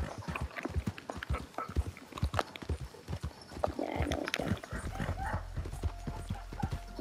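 Horse hooves at a run in Red Dead Redemption 2, a rapid uneven clip-clop beat close by over steady ambience, with a brief breathy snort partway through.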